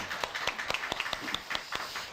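A church congregation claps together after worship singing, a run of sharp, irregular hand claps at fairly close range with no talk over them.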